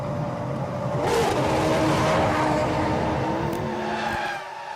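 A 2002 Formula 1 car pulls away from a pit stop, its engine note rising in a loud sustained whine with faint tyre scrub beneath a steady roar of race noise, then easing off at the end.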